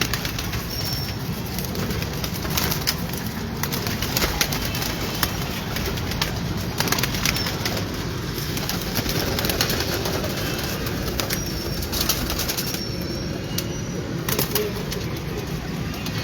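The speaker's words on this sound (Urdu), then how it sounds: "یہ آپ کے پروازی کبوتر ہیں جی." Ferozpuri flying pigeons kept in Gowalmandi, Lahore, cooing softly and continuously at close range, while bursts of wing flapping come and go throughout against a busy background.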